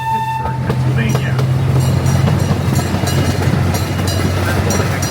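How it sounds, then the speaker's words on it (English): CP Huntington No. 79, a Lake Winnie tour railroad train, rumbling steadily along the rails with a strong low engine drone and a whistle toot early on; voices chatter faintly beneath. "On board CP Huntington number 79, one of two trains that operate on the Lake Winnie Tour Railroad."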